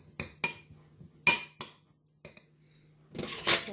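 Scooped-out sweet potato is mashed in a dish, giving sparse, sharp metallic clinks and taps of a utensil against the bowl, several isolated strikes followed by a denser scraping clatter at the end.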